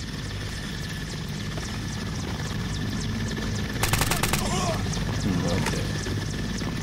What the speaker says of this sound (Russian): Вертолет периодически прилетает что-то.